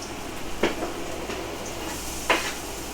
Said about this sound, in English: So these are going to saute for about a minute, just so they get browned, but not like black.